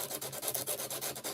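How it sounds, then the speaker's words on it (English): Hardened primer undercoat is sanded back by hand in quick back-and-forth strokes, giving a soft, rhythmic scratchy rub at close range. "I'm just sanding it back."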